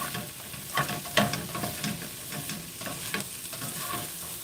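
Peppers being stirred with a spatula in a sizzling pan for Philly cheesesteak filling, a steady frying hiss broken by scraping stirs and light rattles from the pan.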